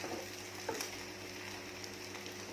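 Vegetarian snails fry crisp in a pan of oil with a soft, steady sizzle and a few faint clinks of a ladle, quiet and close.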